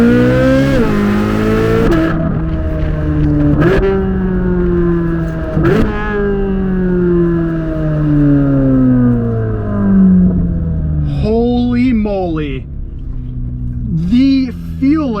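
A C8 Corvette Z06 accelerating hard in first gear in track mode, its engine climbing in a long rising howl punctuated by sharp shifts, loud and close from inside the car, with a brief voice near the end.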